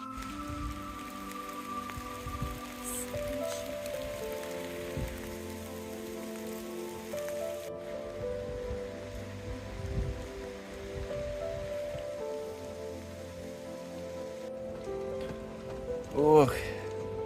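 Steady rain patters down in an autumn Appalachian mountain forest at about 1000 metres, a continuous soft hiss over a low hum, with people speaking quietly beneath it.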